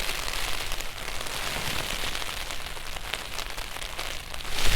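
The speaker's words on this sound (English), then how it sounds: "It just started to rain." Steady rain patters on a taut tarp overhead, a dense continuous hiss of drops drumming close by, with no voices.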